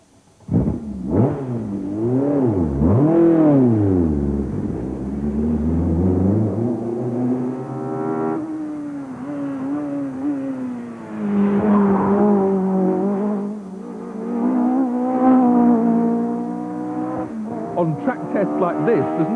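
A BMW touring car laps the Alton Park race circuit, its engine loud and close, sweeping up and down through gear changes with a varying whine, while a voice talks over parts of it.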